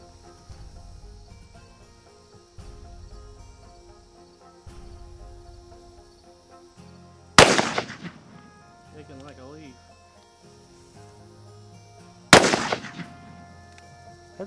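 A Ruger Blackhawk revolver fires two heavy 45 Plowboy magnum loads outdoors, each a sharp, loud crack several seconds apart, over a low rumbling background with crickets chirping.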